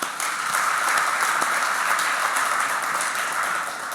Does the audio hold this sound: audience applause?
yes